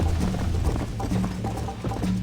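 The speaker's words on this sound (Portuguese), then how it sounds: "Eu não posso ficar também fazendo o cavalo correr que nem um louco aqui." Horse hooves clip-clopping at a steady galloping rhythm in the Red Dead Redemption video game, close and continuous, with low rumbling game ambience and no talk over it.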